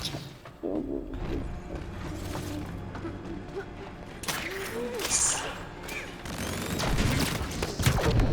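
Bursts of gunfire and metallic clatter in the video game Split Fiction, mixed with mechanical creaks and crashes, fairly loud, with a voice speaking briefly over the action.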